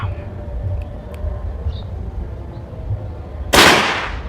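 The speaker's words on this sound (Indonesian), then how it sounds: "Tembakan kedua" After several seconds of low ambient rumble, one loud, sharp 1400 fps air rifle shot rings out near the end and trails off briefly.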